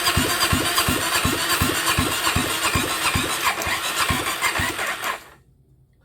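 A cheap secondhand dirt bike engine, primed with carb cleaner, turns over in a steady rapid rhythm of cranking pulses for about five seconds without catching, then cuts to near silence.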